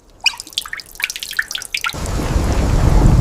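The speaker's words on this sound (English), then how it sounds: "You hear that wall drip under the thunder?" Water drips from a cave wall during a thunderstorm: sharp, close, irregular plinks for about two seconds, then a broad, swelling roar of thunder or heavy rain that fills the rest.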